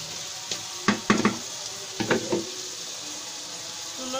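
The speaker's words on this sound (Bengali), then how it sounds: "চিকেন গুলো ভাজা ভাজা করে নিব।" Chicken pieces fry in oil for a chicken curry, giving a soft continuous sizzle broken by a few clustered scrapes and clinks of stirring, close by and without speech.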